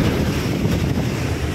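Floodwater rushes through a roadside culvert after heavy rain, with flooded crop fields on both sides. It makes a steady, loud, unbroken roar, heavily buffeted by wind on the microphone.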